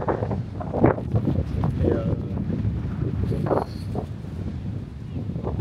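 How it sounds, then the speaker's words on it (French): Wind blowing across a beach on Palm Jumeirah in Dubai, buffeting the microphone with a continuous rumbling gusty roar while a person talks over it. "J'espère pas trop relou le vent."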